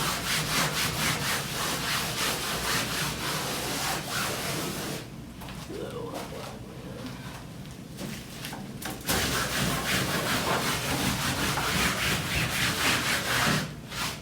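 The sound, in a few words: scraping charcoal off a canvas before painting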